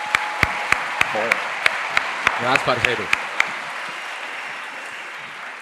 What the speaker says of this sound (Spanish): Un aplauso para vos